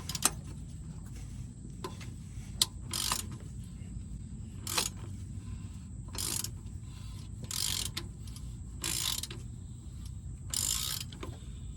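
An oil filter wrench loosens the oil filter on a 2022 Toyota Tacoma V6. Quiet ratcheting clicks and metallic creaks come in several short, separate bursts over a low background hum.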